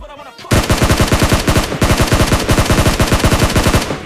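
Rapid automatic gunfire in the mobile battle royale game PUBG Mobile, a loud, close, continuous burst of evenly spaced shots lasting several seconds.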